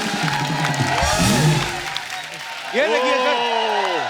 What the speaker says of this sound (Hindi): एक बार जोरदार तालियां ऋतिक रोशन साहब के लिए